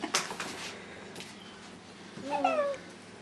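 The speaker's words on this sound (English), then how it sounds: "It's meowing for you." A real kitten, newly lifted from a box, gives one clear rising meow near the end after a few soft handling noises in an otherwise quiet room.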